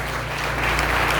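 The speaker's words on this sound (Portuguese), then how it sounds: "Vamos aplaudir esse momento." A church congregation claps together in a brief, dense burst of applause that holds steady and slightly swells.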